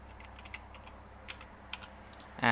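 Soft, scattered keystrokes on a computer keyboard while entering a Windows user account name, quiet clicks in an irregular rhythm, ending with a louder clatter.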